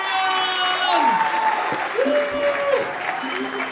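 Steady audience applause at an album launch event, continuous clapping from a crowd with a voice heard talking over it.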